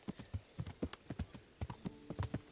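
Horse hooves clip-clopping at a steady walking pace in the Kingdom Come: Deliverance video game, with a regular rhythm of soft, fairly quiet hoofbeats and no talk over them.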